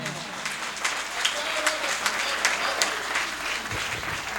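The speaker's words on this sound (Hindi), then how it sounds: "तालियां आप बजाना" Audience applause at a Hindi poetry recital, brisk, crisp clapping from a moderate crowd, evenly spread and fairly close, with some talk mixed in underneath.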